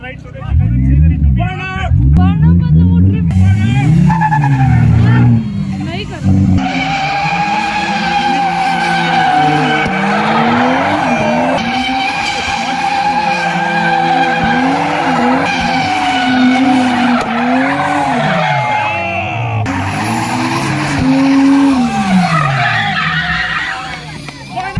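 Formula 4 race car drifting at a Shillong motorsport festival, its engine revving in rising and falling sweeps with sustained tire skidding and squeal throughout, loud and close, with crowd voices and talk mixed in.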